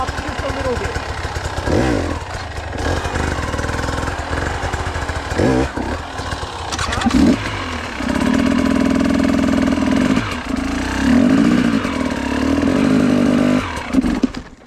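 A motorcycle engine revved hard with the throttle while the brake is held during rider training, loud and close, rising and falling in repeated surges over a steady idle, with talk underneath.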